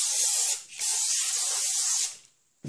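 Brake cleaner sprayed onto the back side and inside of a rear brake rotor from a 2003 Ford Explorer, heard as a loud, close hiss lasting about two seconds with a short break, then fading out.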